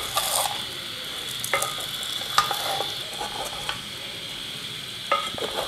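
Makhandi halwa with dry fruits stirred in a pan: a soft, constant sizzle under repeated scraping strokes and occasional light knocks of a spoon on the pan, with no talking.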